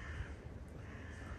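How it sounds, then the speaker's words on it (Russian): Crows cawing in a quiet seaside park in Lazarevskoye, Sochi, in November, heard faintly at a distance over a steady low outdoor hum, with no talking. "Вороны присутствуют."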